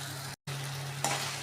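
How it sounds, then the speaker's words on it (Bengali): Spice paste for a meat curry sizzling steadily as it is sautéed and stirred, a continuous frying hiss broken by a brief dropout, with a louder scrape of stirring near the end. "এই যে মশলাটা আমি কষে নিলাম না, কষছি"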